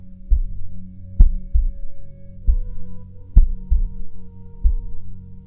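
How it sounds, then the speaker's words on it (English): Slow, steady heartbeat pulses, deep thumping lub-dub pairs about every second and a quarter, loud and close over a soft low hum, with no voices. "Maybe you can hear your heart beating"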